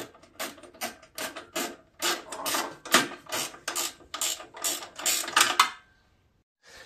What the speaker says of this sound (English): Using a ratcheting wrench or whatever you got.